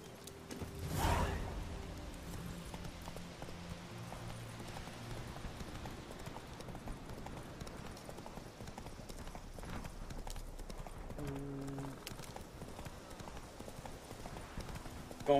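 Hollow hoofbeats clip-clop at a steady trot in The Witcher 3: Wild Hunt, with a whoosh early on and soft ambient game sounds around them.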